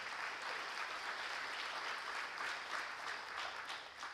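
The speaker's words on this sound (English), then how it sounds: "Let's give them a round of applause, please." Audience at a Refugio High School athletic awards banquet applauding, a dense sustained wash of clapping from many hands, steady for several seconds before easing slightly at the end.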